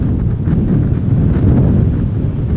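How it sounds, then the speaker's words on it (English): A KLM Boeing 777-300ER arriving at Amsterdam Schiphol after a flight from Cape Town produces a loud, steady low rumble with wind buffeting against the microphone, and no voices. "598, Boeing 777-300ER, arriving from Cape Town, where it departed 11 hours and 20 minutes ago"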